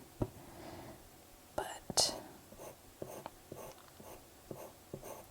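Pencil and charcoal drawing on paper for a portrait, heard as soft scratchy strokes and light taps spaced irregularly, close and quiet, with breathy whispering throughout.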